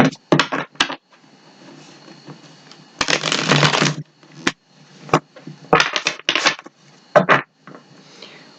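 Cosmic Tarot cards are shuffled by hand in quick riffling bursts, several crisp flurries separated by short pauses, close and clear with no talk over them.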